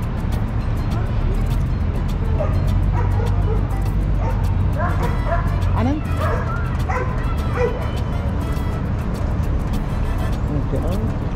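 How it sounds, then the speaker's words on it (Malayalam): Several dogs bark, yip and whimper in a busy outdoor spot near a road at The Battery in Manhattan, repeated calls over steady traffic rumble, with people talking. "പലതരം ഡോഗ്സിനെ ഇപ്പോൾ ഇവിടെ കാണാം"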